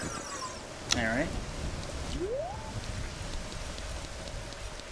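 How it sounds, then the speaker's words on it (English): Steady rain patter in Zelda: Ocarina of Time fills the scene from start to finish, with a brief sharp sound effect and a rising tone cutting through near the start. "I like how it's still raining inside."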